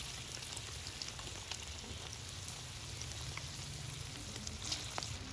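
Breadcrumb-coated chillies fry in hot oil for cheese chilli tikka bites, giving a steady, soft, even sizzle with light crackle throughout and no talking.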